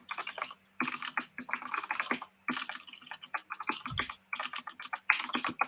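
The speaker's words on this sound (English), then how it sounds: "My keyboard stutters a little." Quick bursts of typing on a computer keyboard, close and crisp, with clustered key clicks broken by short pauses.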